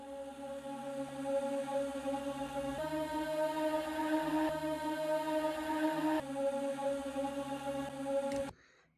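Ambient texture sample from Splice drenched in heavy reverb, a steady sustained drone with layered tonal bands holding evenly for about eight seconds before cutting off abruptly, with no voices.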